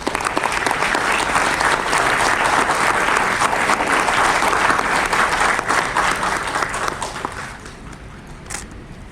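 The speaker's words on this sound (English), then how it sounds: "Can we have a huge round of applause?" A large audience at an IIM Raipur lecture event breaks into loud, sustained applause as a memento is presented to the guest. Dense clapping holds steady for most of the stretch, then tapers off near the end.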